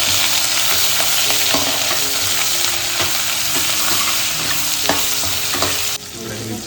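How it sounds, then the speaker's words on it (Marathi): Whole spices and cashews frying in oil in a pan while preparing a mushroom biryani tempering, a steady close sizzle with light stirring scrapes throughout, quieter in the final second. "तर खडे मसाले थोडे आणि बाकी काजू असे फ्राय करून घेते"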